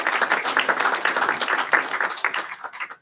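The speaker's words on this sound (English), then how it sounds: "Give yourselves a warm round of applause for being so amazing" A congregation at a family church service applauding, with steady, dense clapping from many hands that tapers off at the end.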